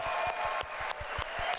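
A single person claps hands right by a microphone, about a dozen quick, evenly spaced claps over a steady background of live-event crowd noise.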